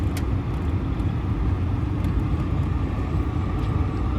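A 1980 Triumph Spitfire cruising on a Florida street, its engine and road noise forming a steady, close, unbroken rumble from inside the car with no voices.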